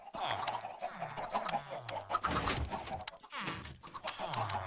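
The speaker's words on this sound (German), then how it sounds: "Weil da so eine schöne Wand ist aus Hühnern." A crowd of chickens packed together in a Minecraft world, clucking and squawking repeatedly in busy overlapping bursts, close and loud, with flapping-like noise in between.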